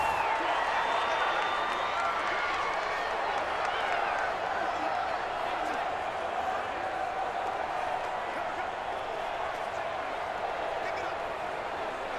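A steady roar rises from a video-game stadium crowd in Madden NFL 20 during a Ravens versus Eagles football game, heard continuously under a commentator's voice.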